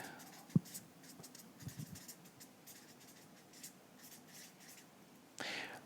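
A word being written on a board at a conference talk, heard as faint, sparse scratching strokes with a sharp knock near the start and a brief burst of rustling noise at the end.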